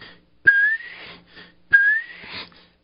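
A person whistles two rising calls imitating a male bobwhite quail's call, each a short note sweeping upward, separated by a brief pause, outdoors in a field.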